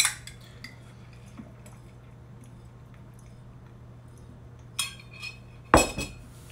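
A metal straw stirs a lemon and apple cider vinegar drink, with sparse light clinks early and a couple of sharper metallic taps near the end against a quiet background.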